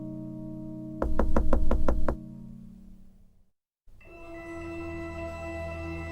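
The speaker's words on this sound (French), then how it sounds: "il attendit le petit chaperon rouge qui ne tarda pas à frapper à la porte" Six quick, evenly spaced knocks on a door in a musical retelling of Little Red Riding Hood, sharp raps over sustained music tones, followed by a pause and new music.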